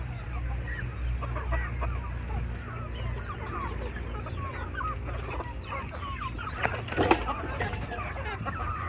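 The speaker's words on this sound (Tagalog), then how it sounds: "Ang tilaok yan, mga idol, ang haba ng tilaok yan." A Brahma rooster crows in a front-yard setting, the call rising briefly above steady background noise and other fowl clucking.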